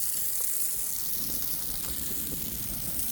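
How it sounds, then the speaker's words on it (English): Pure spring water pouring from a public water dispenser outdoors, a steady loud gushing hiss with no break for the whole few seconds, no voices. "this is a water dispenser"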